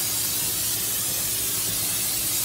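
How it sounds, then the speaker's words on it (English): Cooking spray hisses steadily from a can onto a pan for a couple of seconds, a continuous close, loud spray with no talking. "Here's a pan. Here's some spray."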